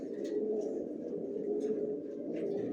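Racing pigeons coo softly in a loft, a low repeated warbling with faint chirps above it, fairly quiet and close with light background hum.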